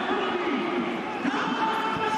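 A Scarlets rugby crowd on its feet near the end of a Challenge Cup quarter-final gives a continuous loud roar, with a commentator's voice talking over the noise.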